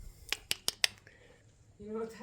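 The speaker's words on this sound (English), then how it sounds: "The barrel rubbing his nose on the window of the door" A pig rubs its nose against the glass window of a barn door, making four quick, sharp squeaky strokes in a row, then a fainter drawn-out squeak.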